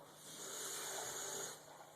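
Water is poured into a 7.5 by 12 inch plastic bag for Kordon bag sealing, giving a steady close gushing hiss that runs for most of the moment and then tapers off.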